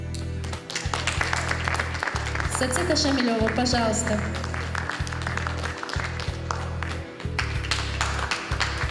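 Audience applause at a stage event announcing SMS voting results, steady clapping from a crowd that carries loud and continuous under a presenter's voice, with music playing throughout.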